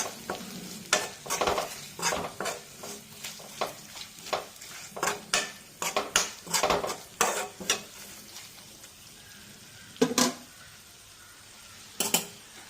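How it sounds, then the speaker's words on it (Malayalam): A spice mix with asafoetida stirred and roasted in a pan for bitter gourd pickle, with a steady soft sizzle under repeated scraping strokes of the spoon and a few sharper clanks, close and alone. "കായം എല്ലാം കൂടെ നന്നായി മിക്സ് ചെയ്ത് ഒന്ന് മൂപ്പിച്ചെടുക്കാം"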